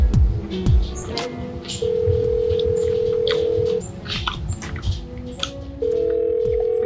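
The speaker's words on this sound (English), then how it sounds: "I'm gonna give Colin a little call" A phone placing a call, with a quick run of dialing tones followed by long steady ringback tones separated by a pause, loud and close, with faint voices underneath.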